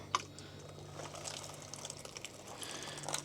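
Water runs from a hose or can onto tomato plants in an urban garden, a faint, steady trickle and splash with a low background hum and small scattered drips.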